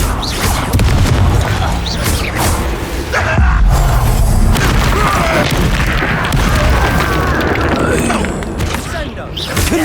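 Confringo fire spells blasting in the Hogwarts Legacy video game, loud booming explosions and crashing impacts over a dense battle din, with character voices speaking throughout.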